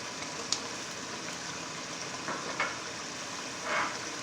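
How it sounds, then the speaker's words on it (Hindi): Biryani masala, chilli and turmeric fry in a pan with ginger-garlic paste for chana biryani, giving a steady, soft sizzling hiss with a few faint pops and clinks over it. "बिरयानी मसाला, मिर्ची और हल्दी, इसको अच्छी तरह मिक्स करके भून लेंगे"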